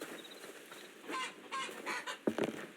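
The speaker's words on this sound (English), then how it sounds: "Those chickens are very noisy." Chickens on a farm cluck and squawk in short irregular bursts, growing louder toward the end with one sharp call, at moderate distance over a quiet background.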